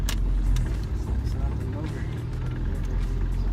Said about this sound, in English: we hear something knocking.